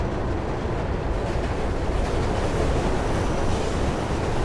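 Train in the video game Mirror's Edge: a loud, steady rumbling roar of a moving train that fills the whole clip with constant low-heavy noise and no clear breaks, and no voices.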